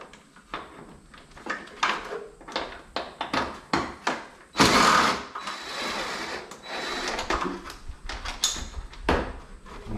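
Last corner bolt coming out of the front end of a Pontiac G8, a run of close metallic clicks, rattles and handling knocks with a brief louder scrape in the middle, no talking.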